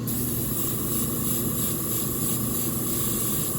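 An aerosol can sprays white paint onto a miniature model, a steady, unbroken hiss held close and level for the full duration, with no talking over it.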